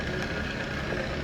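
Arboga Maskiner E830 24-inch geared drill press with power down feed running in low gear, a steady quiet mechanical hum and whir with no voices.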